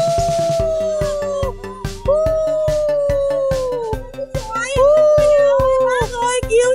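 A voice imitates a howl with long, wavering, sliding cries repeated several times over a steady rhythmic beat, fairly loud and close.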